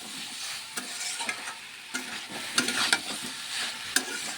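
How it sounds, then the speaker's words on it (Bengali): Young jackfruit and potato stirred and fried with spices in a pan, a soft continuous sizzle broken by irregular scraping and clinking strokes of the spatula, fairly close and not loud. "ভালো করে নেড়ে কষিয়ে নেবো মশলাটার সঙ্গে"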